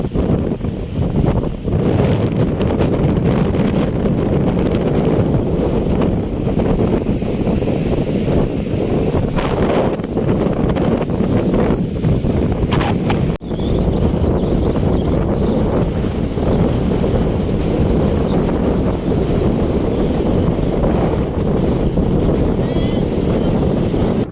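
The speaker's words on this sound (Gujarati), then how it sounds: "તો તમે જોઈ શકો છો અત્યારે વાવડો મોજો ખૂબ જ વધી ગયો છે" Strong wind and crashing waves on the coast of Shiyal Bet island during Cyclone Tauktae, a loud continuous roar with heavy wind buffeting the microphone throughout and surf surging underneath.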